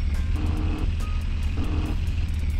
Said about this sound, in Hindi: भाई साहब कितनी तेज चल रही है गाड़ी